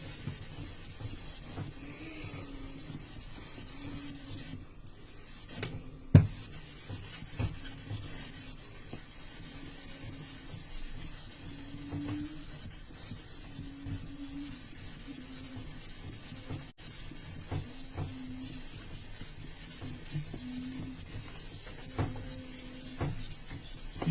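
Steady rasping strokes of sandpaper rub back and forth against an ordinary chondrite meteorite, close and rhythmic, with a faint high hiss in the background.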